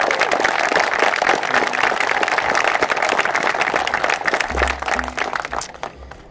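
An audience at a wildfire anniversary commemoration gives a state senator a warm round of applause, a steady wash of clapping that thins out toward the end as a voice briefly begins speaking.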